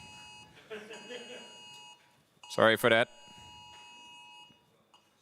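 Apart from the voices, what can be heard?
electronic beeps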